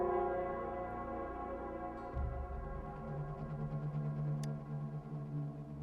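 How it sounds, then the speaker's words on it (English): Nell Square's bell in the video game Wuthering Waves, a deep sustained tolling with a steady low hum and long ringing overtones, heard alone with no talk. "it's the Nell Squares bell."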